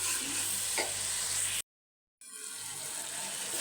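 Masala with garam masala sizzling and being stirred in a pan for a chicken and kaddu curry, a continuous frying hiss with scraping, broken by a brief silent gap before the sizzle resumes.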